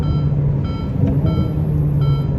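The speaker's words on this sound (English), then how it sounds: "Sorry about the beeping, that's the low tyre pressure warning" A Ferrari SF90 Stradale's low tyre pressure warning chime beeps repeatedly at a steady interval over a low engine rumble, at Portimão race track.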